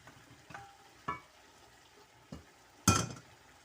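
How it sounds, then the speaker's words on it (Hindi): Korma masala chicken being stirred in a pot, with a few scattered scraping strokes of a spoon and a sharper metallic clink near the end over a faint background sizzle. "अब मैं इसको खूब मिक्स करती हूँ"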